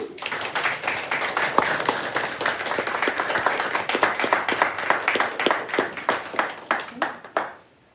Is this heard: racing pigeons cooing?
no